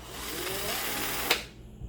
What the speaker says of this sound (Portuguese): Que é a furadeira